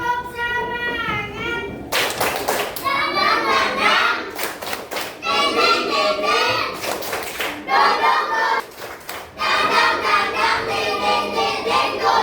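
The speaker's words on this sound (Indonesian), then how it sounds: "Tepuk semangat." A group of children doing a rhythmic spirit clap in an Indonesian classroom, sharp bursts of hand claps in patterned runs, mixed with children's chanting voices over about twelve seconds.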